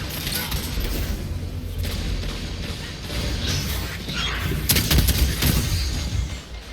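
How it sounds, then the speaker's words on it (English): Hand cannon and shotgun shots fire in quick succession during a Destiny 2 match, loud bursts over a constant bed of game noise, with the sharpest cluster of blasts near the end. "The speed between hand cannon shots and shotgun shots is blindingly quick."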